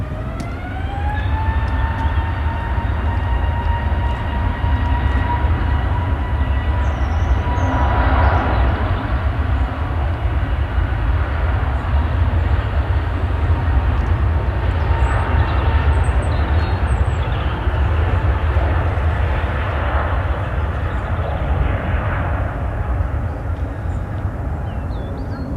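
A jet taking off from Manchester Airport, a loud sustained engine roar with rising whine tones, steady and continuous across the whole stretch, heard from nearby with no talk.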